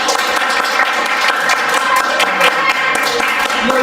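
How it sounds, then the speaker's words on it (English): A crowd at a datathon kick-off event bursts into loud, sustained applause, with many overlapping hand claps forming a steady, close roar from start to finish. "we're gonna start clapping for me"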